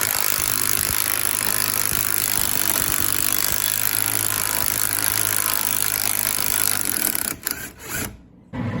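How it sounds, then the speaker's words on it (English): Impact wrench driving out a puller bolt during lower control arm work on a 1997 Jeep Grand Cherokee, a sustained loud rattling hammer that runs for several seconds, then breaks off into short bursts before stopping. "I'm just going to use the impact to drive that out."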